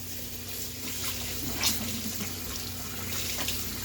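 Nitro RC engine air filters from a Traxxas and a Kyosho being rinsed under a running tap, a steady close hiss and splash of water in a sink with small splashy bursts, no talk.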